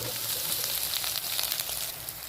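Boiled, crumbled fish roe frying with onions in a pan for a Bengali bhuna, a dense, continuous close sizzle with faint crackles and light stirring scrapes.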